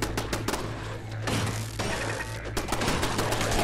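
An automated turret in Fallout hammering away at ghouls at the Corvega Assembly Plant, dense rapid bursts of gunfire with heavy thuds and a low steady hum, loud and close.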